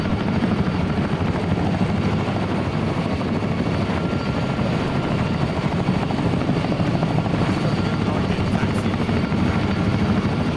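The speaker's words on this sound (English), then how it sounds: "If you're in here, who's out in that helicopter?" A helicopter flying overhead, its steady rotor chop and engine roar filling the whole clip, loud and continuous, with no voices.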